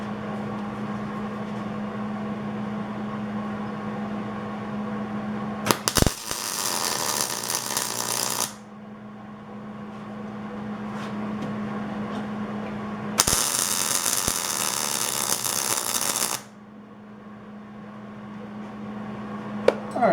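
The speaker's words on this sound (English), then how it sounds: "what I want to do is come in with the MIG and just get it locked into place first" MIG welder tacking parts of a homemade engine stand, two loud crackling bursts of roughly three seconds each over a steady hum in a shop.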